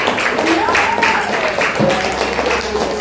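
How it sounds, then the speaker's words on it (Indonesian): A classroom of students applauding group 4 after their presentation, steady rhythmic clapping from many hands under a teacher's voice and a sung or drawn-out call. "Kita beri tepuk tangan kelompok 4."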